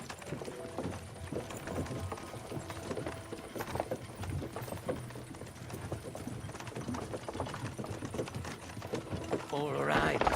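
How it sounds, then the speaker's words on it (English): Horses pull a cart in the video game Kingdom Come: Deliverance II, steady hoof clopping and rattling, creaking wheels rolling continuously at moderate loudness, with speech over it at times. "can't you make the horses go a little faster, Grandpa?"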